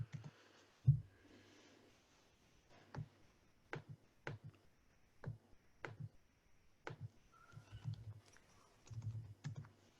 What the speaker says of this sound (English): I'll type the name in the chat so you can pick that up